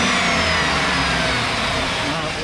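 A Honda Grom motorcycle engine revs loud and close, a continuous buzzing roar that holds high throughout with no break.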